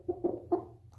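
Three short, close clucks from a chicken, evenly spaced over about a second, with no talking.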